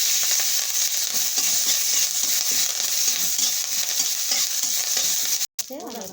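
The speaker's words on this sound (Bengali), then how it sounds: "এখানে একটু সাদা তেল দিলাম, আর এখানে একটু সরষে ফোড়ন দিব" Mustard seeds sizzle and crackle while tempering in hot white oil, stirred in a pan, producing a dense, loud, steady frying hiss with scraping stir sounds throughout and a brief break near the end.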